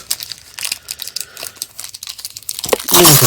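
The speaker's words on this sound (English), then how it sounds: "I bent some of the cards." Yu-Gi-Oh trading card packs torn open and cards handled, with crinkling foil, papery rustles and a burst of loud tearing at the end, close up.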